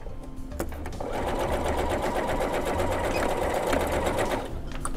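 A sewing machine stitches a pencil case box, running in one loud continuous burst of rapid needle clatter for several seconds, with short quiet moments at the start and end.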